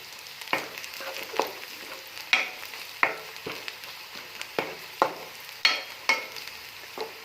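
Cumin and garlic sizzle gently in a pan while a utensil scrapes through them in regular stirring strokes, about one every half second.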